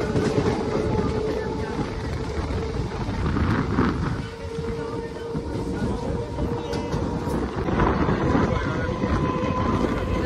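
Inside a moving passenger train near Barrackpore, a loud steady rumble and rattle of the carriage rolls on with faint rhythmic track clatter and a speaking voice intermittently beneath it.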